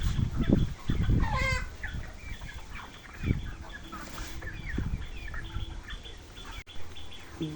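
Sick broiler chickens cluck and call close by in short, repeated bursts over a low background murmur, with no talk.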